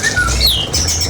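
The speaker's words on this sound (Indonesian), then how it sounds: "ini nih, burung murai." Magpie-robin (murai) calling close by with a loud, brief run of squawking whistles that rise and fall quickly, clear and alone.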